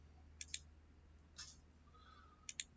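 Mouse clicks during setup of an Android Studio project: two crisp pairs of near double clicks, then one softer click, and finally another double pair, over a quiet low hum.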